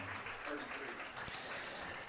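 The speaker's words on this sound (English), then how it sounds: "A big round of applause, ladies and gentlemen, for number 33, Braxton Lawson." Crowd applause in the stands at a high school football game, Madison Southern versus Madison Central, a short burst of clapping and cheering with an announcer's voice over it.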